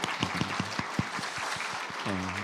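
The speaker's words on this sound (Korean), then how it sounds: "다시 한번 우리 박수로 하나님께 영광 올려드리겠습니다." A church congregation at a Sunday service claps in a dense, moderately loud wash, with a few voices rising briefly in bursts over it.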